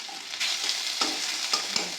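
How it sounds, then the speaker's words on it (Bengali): Ginger-garlic paste hits browned onions in a hot pan and sizzles steadily, with a few sharp scraping stirs on top. No one speaks. "এবার আদা আর রসুনের পেস্টটা দিয়ে দিচ্ছি।"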